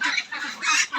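Pekin Star 13 ducks quack in close, loud bursts, about four raspy calls in quick succession.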